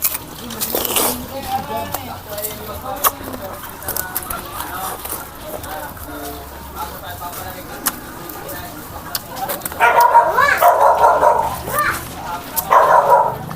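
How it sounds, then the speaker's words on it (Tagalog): A pet dog barks in bursts in a rural outdoor setting, with chickens clucking nearby and a person talking over much of it. "medyo maingay yung aking alagang aso"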